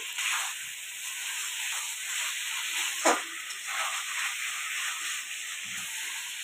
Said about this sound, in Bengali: আলুটা দিয়েই আমি আগে বেশিক্ষণ কষিয়ে নিচ্ছি